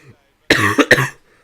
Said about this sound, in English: It's got a sudden influx of coughing.